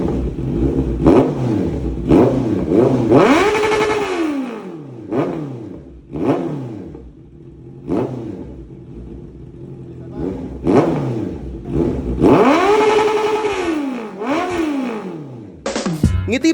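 A Honda CBR 650R fitted with a Villain R9 exhaust is revved up close in a series of about eight sharp bursts, each rising and falling, with idle between them.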